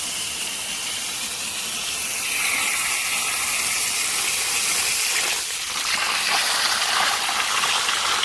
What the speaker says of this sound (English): So the pump is currently pumping water up the reservoir tanks we have seen.